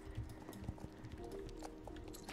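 Horse hooves clip-clop in the riding game Star Stable Online, a quiet, even run of soft thuds with a faint background hum.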